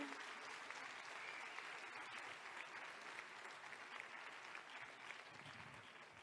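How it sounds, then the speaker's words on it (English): Audience at a midwives' congress presentation in Bali applauds the interpreters, with sustained, even clapping from a crowd heard at a distance and fairly quiet throughout. "give an applause to the interpreters"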